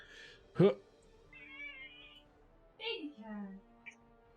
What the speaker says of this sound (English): Thank you for throwing your angry cat at us.